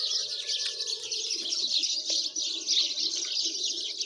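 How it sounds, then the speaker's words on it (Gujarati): House sparrows chirping in a village, a dense, continuous chatter of many birds keeping up a steady bright twittering at moderate distance, with no talk. "ચકલા કલબલાટ કરે હે."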